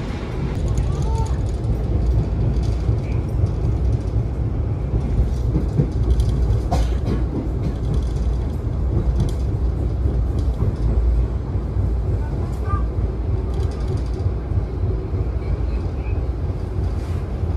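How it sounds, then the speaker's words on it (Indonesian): Interior rumble of the Kertanegara economy-class passenger train running steadily, with loud continuous low-frequency wheel and carriage noise, wind buffeting, and occasional clanks throughout. "Perjalanan kereta api Kertanegara sekarang tiba di stasiun Kutoarjo"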